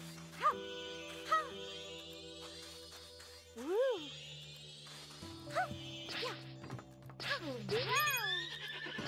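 Horse in Princess Peach Showtime video game, a cowgirl wilderness stage, giving several sharp whinnies and neighs with some hoof clatter over game music, voices speaking at times.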